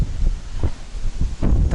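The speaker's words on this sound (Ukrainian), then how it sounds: "сильний вітер." Strong wind buffeting the microphone in low, rumbling gusts, with a rough roar that swells and drops irregularly.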